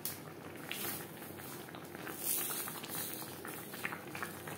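Soybean curry in gravy bubbles and simmers steadily in a pot, a continuous soft boiling patter with small pops, fairly close and moderately loud, with no talking.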